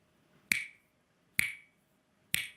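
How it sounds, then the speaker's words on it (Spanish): Three crisp finger snaps, sharp and close, spaced roughly a second apart with near silence between them. "my snapping my finger"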